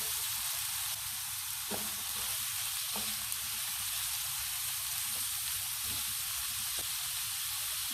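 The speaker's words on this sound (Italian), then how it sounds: "Ho messo a scaldare la padella, mettiamo un bel giro di olio all'interno, 20 secondi e aggiungiamo le verdure." Vegetables sizzle steadily in hot olive oil in a pan, a continuous close frying hiss with faint occasional clicks of stirring, no talking.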